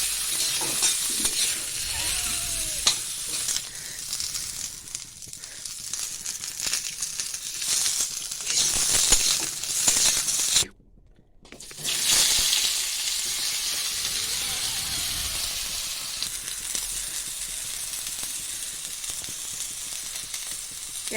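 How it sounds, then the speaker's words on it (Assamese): Potatoes and urohi beans frying in a pan, a steady sizzle with stirring scrapes running throughout, briefly cut to near silence midway before the frying resumes. "আলুখিনি আৰু উৰহীখিনি মই ফ্ৰাই কৰি লৈছোঁ।"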